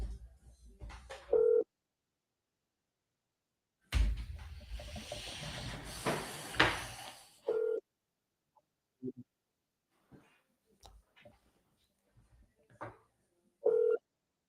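Electronic push-button tones from a phone dialing a seller's number, a few short tonal beeps spaced apart across the stretch, with a burst of hissy line noise in the middle and quiet gaps between.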